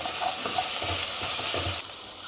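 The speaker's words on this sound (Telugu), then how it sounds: "ఇదిగోండి అవన్నీ ఏగుతున్నాయి కదా" Ginger garlic paste with cinnamon and cloves frying in a pan for a prawn and potato curry gives a loud, steady sizzle with stirring scrapes, then drops abruptly to a quieter hiss near the end.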